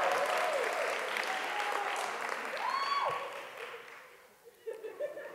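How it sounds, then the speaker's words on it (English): Audience applause at an honors induction ceremony, dense clapping that holds steady and then fades away, with a few scattered claps and light laughter near the end. "is there going to be any applause for God? It better be loud."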